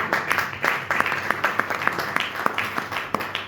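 An audience applauding at a public talk in Puisaye, with brisk, dense hand clapping that holds steady and fairly close throughout.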